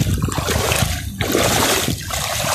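Water flows strongly along a canal, a loud, close, continuous rushing and splashing that swells and eases slightly, with no talking.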